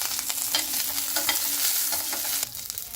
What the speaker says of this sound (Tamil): தேங்காயை போட்டுவிட்டு அதிகம் வறுக்க வேண்டாம்